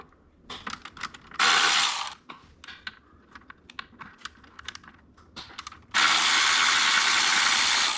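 A ratchet spins in two long, rapid clicking runs, close and loud, as two 8mm bolts come out of a part on a Ford Triton 5.4 or 4.6 engine, with scattered tool clicks in between.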